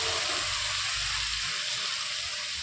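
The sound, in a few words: water poured into spiced oil while cooking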